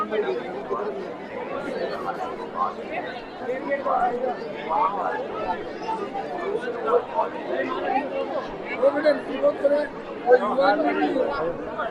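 Dense crowd chatter fills the Mahakal Lok temple corridor in Ujjain at night, a steady hubbub of many overlapping voices with no single speaker standing out, continuous and fairly close throughout.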